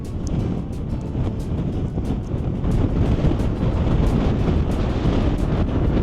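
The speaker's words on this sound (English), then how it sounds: "Just a little windy here." Strong wind buffets the microphone in a steady low roar at Cape Blanco on the Oregon coast, growing a little louder partway through, with no one speaking.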